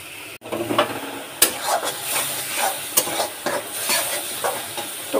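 Prawn masala sautéed and stirred in a pan, with a steady sizzle and hiss and repeated scraping stirs throughout; no one speaks.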